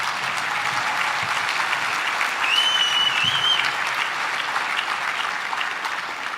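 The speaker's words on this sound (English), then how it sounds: "You can go ahead and clap for that." Steady, dense applause from an audience at a veterans charity gala, sustained and fairly loud for several seconds with a brief whistle-like tone partway through, no talking over it.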